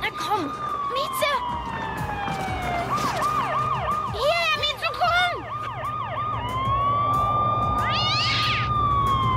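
A cat meowing repeatedly in a drama scene, short rising-falling cries mixed with a wailing siren, electronic tones and voices.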